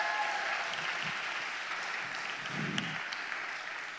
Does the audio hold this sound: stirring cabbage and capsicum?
no